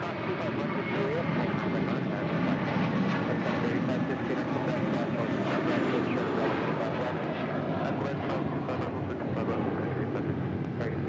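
An American Airlines Airbus A321 departs LAX for Los Cabos, its jet engines making a steady, broadband roar that holds strong throughout, with some wind buffeting at the microphone and a voice talking over it at times.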